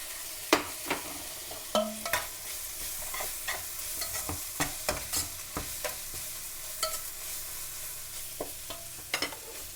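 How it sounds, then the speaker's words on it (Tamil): Curry leaves spatter in hot oil with onions in a pan while making Indian bonda, a continuous sizzle broken by frequent sharp crackles and scraping stirs. "இப்போ நாங்கள் இதோட கருவேப்பிலையை போடுவோம்."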